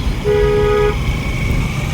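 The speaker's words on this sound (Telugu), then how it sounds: "హారన్ అప్లై చేయండి" A single short car horn honk sounds over low, steady traffic rumble, during a driving lesson.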